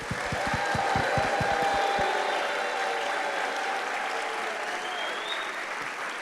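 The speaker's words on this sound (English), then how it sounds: "So whistle, clap, be as loud as possible" Audience clapping and whistling at a lecture event, opening with a few sharp, loud claps before a sustained roar of cheering and high whistles that stays steady and fills the room to the end.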